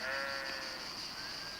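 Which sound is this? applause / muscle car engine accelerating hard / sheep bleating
sheep bleating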